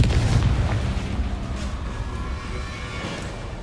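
A Confringo spell explodes in a Hogwarts wizarding game: a deep, rumbling blast that booms at the start and fades away over a few seconds, with no voices.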